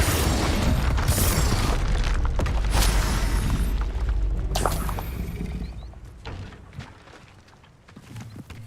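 A Confringo spell explosion in a video game booms loudly with heavy bursts and rumbling impacts in the first half, then fades to quieter mechanical clatter.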